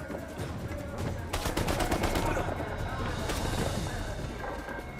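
Gunfire in the video game Uncharted on PC: dense bursts of rapid shots, including a louder volley partway through, over a steady busy game soundscape with a voice talking at times.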